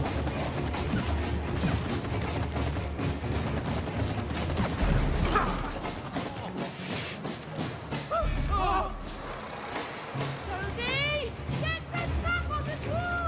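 Bursts of rapid gunfire from the co-op video game It Takes Two crackle among thuds and other game effects, loud and close, with muffled voices in the mix.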